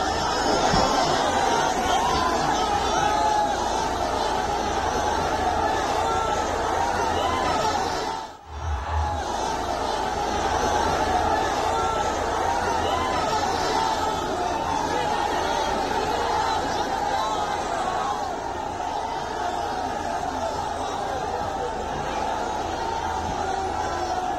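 A huge, dense crowd at a Rahul Gandhi political rally in Maharashtra chatters and shouts continuously. The noise is loud and unbroken apart from a momentary dip partway through.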